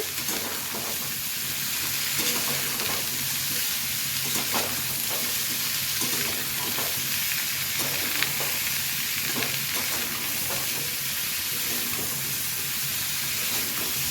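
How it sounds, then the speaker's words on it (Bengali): Diced potato and cauliflower fry lightly in oil in a pan for a winter-vegetable khichuri, a constant close sizzle broken by repeated scraping stirs and clinks of the spatula. "আলু ফুলকপি কিন্তু হালকা করে ভেজে নেওয়া হয়ে গেছে"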